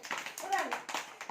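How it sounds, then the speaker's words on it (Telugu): Small children clap together at an anganwadi preschool centre during a breath-blowing seed game, a run of sharp, fairly regular claps mixed with children's voices. "క్లాప్ క్లాప్స్ క్లాప్స్ కొట్టండి"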